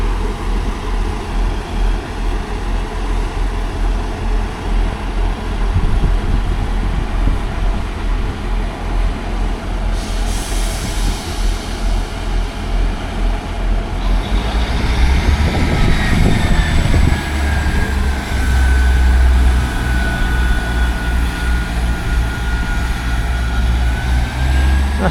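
Passenger trains rumble through Alfreton railway station, a steady low engine drone building as one draws nearer, then a rising whine and squealing rail tones join in as it passes close by.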